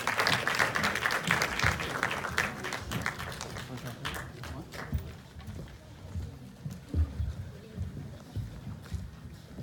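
An audience at a post-screening discussion applauds filmmakers with a burst of close, dense clapping that thins out and fades over several seconds, mixed with crowd murmur and speech.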